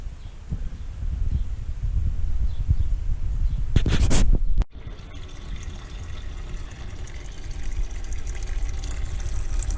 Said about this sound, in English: Draining the block now first, and then we'll drain the radiator on the other side.